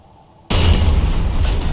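A Leclerc tank cannon fires in a tank video game, aimed at a T-64A: a single loud, deep boom erupts abruptly after a brief quiet lull and rolls on with a heavy sustained rumble.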